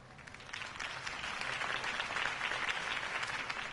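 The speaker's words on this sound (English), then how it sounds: "If only Mr. Wayne, my campaign's largest backer, could have heard that applause" Dense crowd applause after a campaign speech in a video game, a continuous, full wash of many hands clapping that swells slightly and holds steady throughout.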